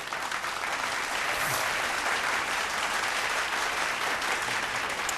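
A television singing-contest audience gives a dense, steady round of applause welcoming a guest on stage, loud and continuous throughout with no break and no talking.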